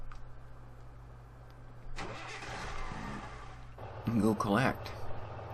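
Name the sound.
old truck engine in Farming Simulator 2013 video game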